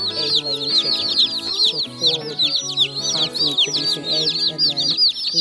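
Egg-laying chickens cluck and chirp continuously in a busy flock, with overlapping calls close by and no speech.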